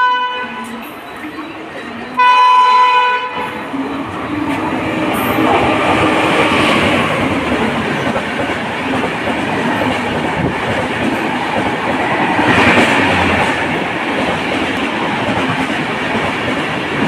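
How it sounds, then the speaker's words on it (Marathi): A Virar local train pulls into Vasai station, its rumble and wheel clatter building loud and close along the platform after a brief announcement-like tone at the start, with faint voices in the background. "विरार ट्रेन येईल."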